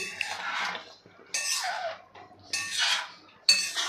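A spoon scrapes and clinks against a pot of spicy chicken curry with water just added, in several short bursts separated by pauses, close and moderately loud.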